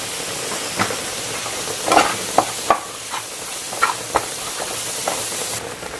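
Sliced onions fry in masala with salt in a pan, a loud steady sizzle punctuated by several scraping stirs and clinks of the spatula, ending with a brief drop in hiss.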